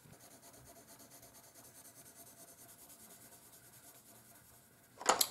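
Colored pencils (Polychromos and Prismacolor) being applied and blended on paper, a faint, steady scratchy rubbing in quick strokes, ending with a brief louder scrape or knock, with no talk.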